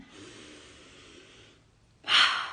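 A slow, quiet inhalation drawn in for about a second and a half, followed by a short, louder, breathy exhale close to the microphone, with no talking.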